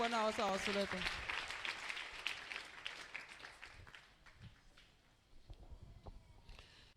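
A church congregation at a deliverance service bursts into loud applause, with a raised voice calling out at the start, before the clapping fades into quieter scattered claps and shuffling.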